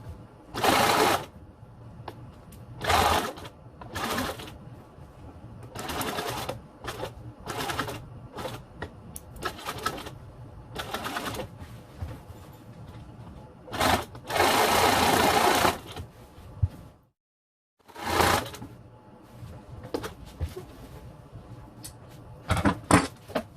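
Sewing machine stitching patterned fabric for a boxed bay window banquette cushion, loud close bursts of rapid mechanical whirring separated by pauses and small clicks of handling.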